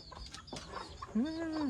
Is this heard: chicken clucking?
yes